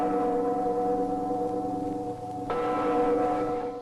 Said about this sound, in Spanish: Con el sonar de las campanas inició la pesadilla para estos jóvenes.